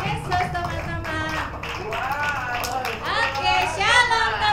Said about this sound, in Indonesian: Kasih tepuk tangan buat Tuhan Yesus teman-teman.